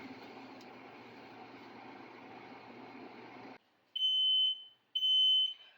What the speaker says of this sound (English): we're going to turn off the timer